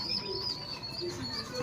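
Soft pigeon coos and small chirps from a backyard loft, faint and close, a few brief calls over low background noise.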